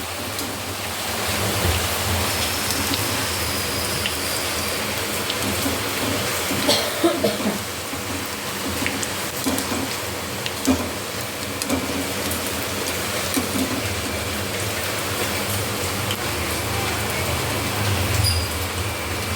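Steady broadband hiss of rain falling, constant and enveloping, with a few faint knocks and rumbles mixed in.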